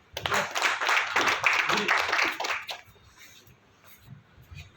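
Audience applause, a dense burst of hand clapping lasting a few seconds that then stops abruptly, leaving faint room noise.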